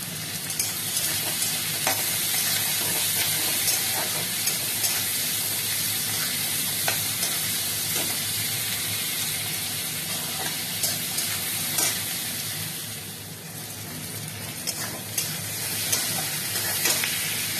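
Tomato and capsicum fry in a pan with a loud, continuous close sizzle, broken by occasional scrapes and clicks of stirring, and no one talking.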